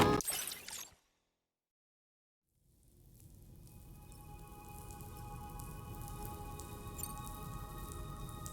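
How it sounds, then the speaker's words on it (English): Rain falls in the video game Death Stranding 2 as a steady, broad hiss. It swells in after a brief silence and holds evenly to the end, with no voices. "Those raindrops are falling on my head."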